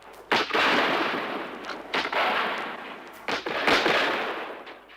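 Siege cannons pound the walls of Jhansi in three loud, roaring volleys, each opening with a sharp crack and spreading into a dense rumble that nearly overlaps the next.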